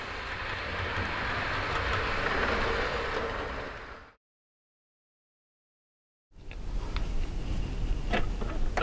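A model railway train running on a home layout rumbles and clatters steadily for about four seconds, cuts out completely, then resumes with light ticking rail clicks near the microphone.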